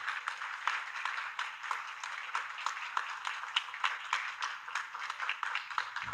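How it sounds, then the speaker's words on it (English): A round of applause from an event audience after an official's speech, steady, dense clapping from many hands that continues evenly throughout, moderately distant. "A round of applause, please."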